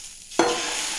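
Dosa batter hits an oiled pan with a sudden sharp sizzle that starts partway through and continues as a steady close hiss.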